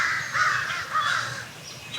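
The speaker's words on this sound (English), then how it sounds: "the birds are having an argument about who wins this morning." Crows cawing outdoors on a morning over a straw bale garden: harsh, repeated caws that overlap in quick bursts, as though several birds are calling back and forth at a moderate distance.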